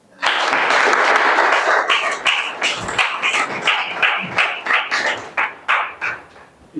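Audience applause for a professor at a university museum event in Kinshasa, a dense burst of clapping that starts loud and then breaks into sparser, uneven claps that gradually thin out.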